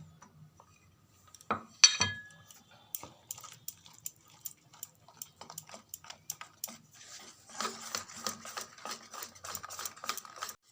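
Cake batter being mixed in a bowl with chopped cherries, candied ash gourd and raisins, a spoon scraping and tapping against the bowl in quick repeated strokes, quiet and close, with a brief louder clink early on.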